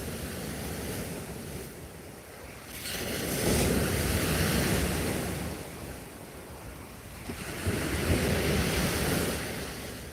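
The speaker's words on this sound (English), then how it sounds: "here comes the waves from that tanker" Waves from a passing tanker's wake wash onto a beach during night fishing, two broad surging swells rising and falling over steady wind rumble.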